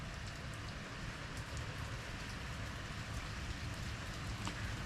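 Steady rain falls with a soft, even patter and low rumble, continuous and unbroken, with no voices.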